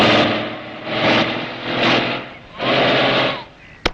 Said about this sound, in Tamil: வண்டி நவரவே மாட்டேங்குது.